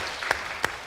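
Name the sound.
audience applause for Sarah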